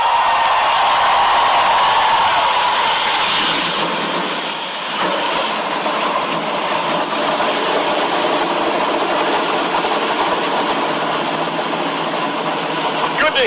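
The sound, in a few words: NASCAR race car engines starting at the Daytona 500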